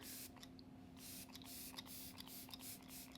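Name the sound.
Arbonne Let It Set Refreshing Finishing Spray misting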